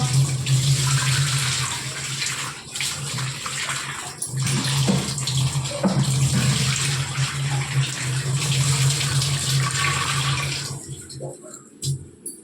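Tomatoes are washed under a running kitchen tap before pickling, a steady close splash of flowing water with small bumps of handling that cuts off near the end.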